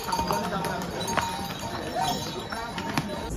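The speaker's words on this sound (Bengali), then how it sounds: "প্রচুর ঘোড়া আসছে" Horses clip-clop steadily along the Kedarnath trek path in the mountains, a repeated hoof rhythm close by with the animals passing, while people talk in the background.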